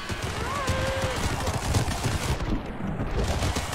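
Cannon volleys in the video game TABS, a Wild West faction battle, blasting in a dense, continuous barrage of booms and crackling gunfire that stays loud throughout.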